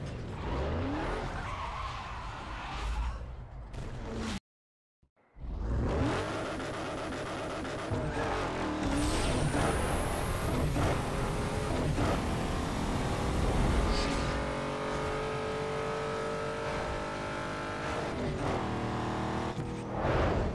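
A Hummer H2 with a 6L V8 on a drag run in Need for Speed Underground 2, loud engine roar with squealing, skidding tires, a brief silent gap, then the engine revving through rising gear shifts at full speed.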